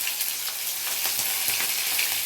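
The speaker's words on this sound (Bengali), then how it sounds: "আমি বড়া ভাজার তেলটাই করছি। ফোড়নে দিচ্ছি দেখুন কালো জিরে" Nigella seeds and torn green chillies hit hot oil already used for frying lentil fritters, giving a soft, continuous crackling sizzle with small pops, close and fairly quiet.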